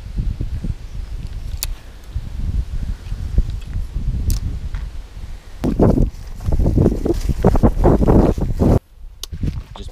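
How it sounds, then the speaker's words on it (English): Strong gusting wind buffets the microphone beside a winter bass-fishing pond, a loud, ragged low rumble that surges and drops in bursts throughout and briefly cuts out near the end. "This wind is so insane."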